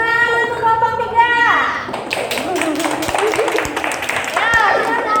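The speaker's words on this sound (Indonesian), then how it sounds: "Tepuk tangan untuk kelompok 3" A classroom of young pupils bursts into clapping for a group of classmates, a brief loud round of applause with taps and a voice, following a teacher's spoken request.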